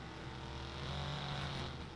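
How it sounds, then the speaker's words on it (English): Car engine in the Watch Dogs video game, a steady buzzing drone with a high, motorbike-like whine, running continuously and fairly loud with no talk over it. "This car sounds like a motorbike."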